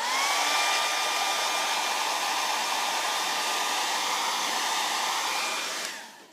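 A hair dryer blows loud and close in a steady whirring rush, used to blow loose lash fibers away, then cuts off near the end, with no talk.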